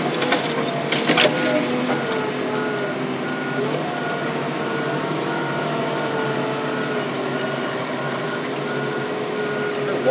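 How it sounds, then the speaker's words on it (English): A car crusher works on a Volvo S80 at a scrapyard, giving a steady mechanical grinding and hydraulic drone with occasional creaks and metallic knocks, continuous and fairly loud with no talk. "It'll take a minute before this car gets crushed."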